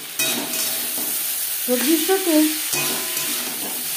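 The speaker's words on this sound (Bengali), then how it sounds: "জিরের গুঁড়ো বেশ ভালো করে মিক্স করে দেবো।" Vegetables fry in a pan with spices and cumin powder for a low-oil katla fish curry. Close sizzling and scraping stirring run throughout while a voice talks over part of it.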